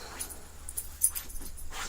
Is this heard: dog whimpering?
yes